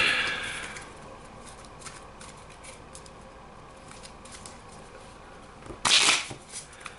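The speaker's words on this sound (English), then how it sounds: "I'm gonna shuffle these cards real quick." Soft riffling and flicking of playing cards being shuffled by hand, faint and close, ending with a brief louder burst of rapid card riffles near the end.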